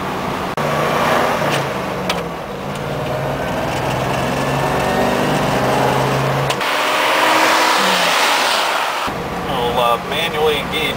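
A 1959 Chevrolet Bel Air with a 283 V8 and three-speed overdrive transmission cruising on the road, a steady engine drone with a brief dip and change in pitch as it shifts into overdrive, under someone talking.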